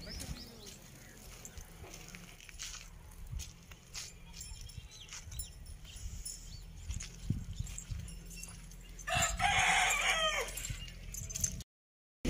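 Country chickens cluck in short scattered calls around a rural farmyard, with one louder crowing burst near the end, fairly faint and mixed with footsteps and occasional talk.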